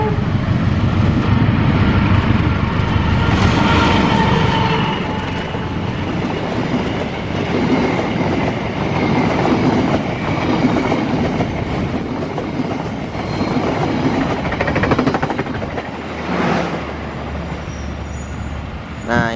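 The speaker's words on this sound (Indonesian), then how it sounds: "Nah, ini lokomotifnya lagi pelan-pelan banget ya, kecepatannya pelan-pelan sekali." A locomotive rolls very slowly past on a newly built railway line during a test run, a loud, close rumble with rail clatter and wheel noise that eases as it moves on, with a few voices faintly nearby.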